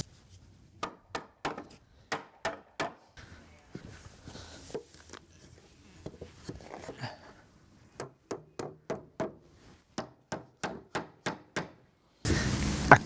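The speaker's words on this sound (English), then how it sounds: "I think it's just going to need a little tap into place with the mallet." Sharp wooden taps from a mallet knocking wooden panels into place, a series of crisp evenly spaced knocks, close and clear, with a short scraping stretch in the middle and a louder burst at the end.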